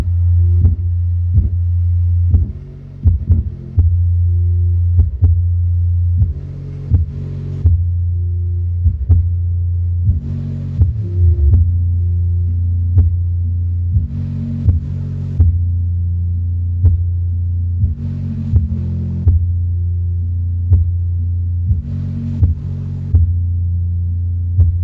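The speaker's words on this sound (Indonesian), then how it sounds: "Ini kita tes untuk nada subwoofer seperti ini." A field sound system's subwoofer plays a steady, deep test tone that hums continuously, with rhythmic low thumps and short bursts pulsing over it at a regular beat and no talk.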